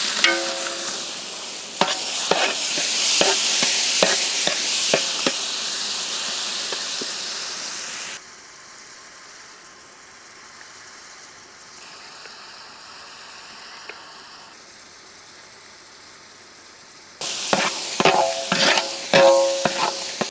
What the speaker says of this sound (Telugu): ఉల్లిపాయ ముక్కలు ఇంకా టమాటోస్ నూనెలో చక్కగా వేగాక